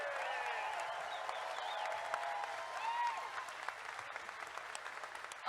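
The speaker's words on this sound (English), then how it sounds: "Round of applause for Dan." Audience applause at a Tennolive 2019 live panel, a steady wash of clapping from a crowd that carries through the whole stretch with some scattered cheering mixed in.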